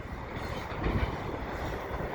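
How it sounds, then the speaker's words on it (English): The tail end of a CP freight train rolls past in winter near Dorval Station, a steady loud rumble of rail cars and wheels close by with no talking. "Looks like that's the end of the train right there"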